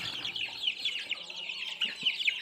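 Peruvidai chicken chicks on a farm, a busy chorus of high thin cheeping and peeping from many birds close by, continuous and fairly soft.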